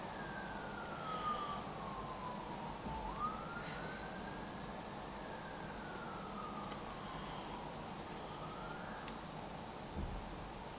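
A faint emergency siren wails from a distance, its pitch slowly rising and falling over steady background rumble, with a couple of soft knocks nearby.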